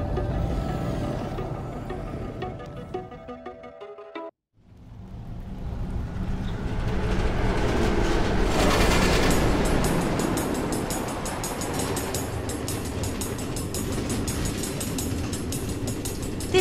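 Steady rolling rumble of a train running on automated tracks in Minecraft: Story Mode, loud and continuous after a brief break, alone without talk.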